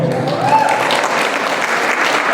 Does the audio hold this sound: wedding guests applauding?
yes